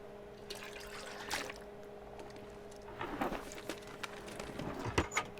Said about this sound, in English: And pull the water out of the toilet as usual.